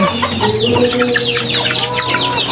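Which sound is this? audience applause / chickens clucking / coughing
chickens clucking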